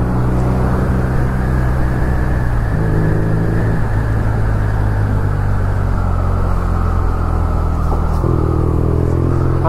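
A BMW R nineT motorcycle's engine and exhaust rumble loudly and steadily up close, with a deep low throb that rises in pitch during two short revs.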